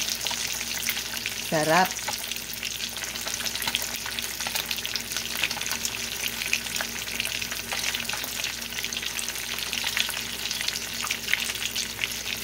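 Fish frying in boiling oil makes a dense, continuous sizzle and crackle throughout. It sits close, and a brief voice is heard early on.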